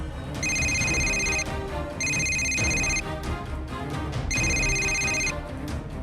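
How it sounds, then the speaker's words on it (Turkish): A telephone rings in three long electronic bursts separated by short pauses, loud and close, over a steady background. "Ah, yine telefon çalıyor."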